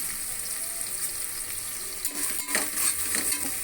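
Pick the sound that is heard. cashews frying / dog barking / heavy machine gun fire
cashews frying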